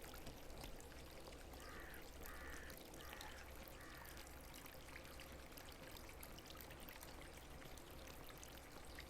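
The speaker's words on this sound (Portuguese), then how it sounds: "Nossa, agora tá chovendo" Quiet, constant rainfall in the Agatha Christie game The ABC Murders, a soft even patter throughout, with a few brief crow-like caws early on and no speech.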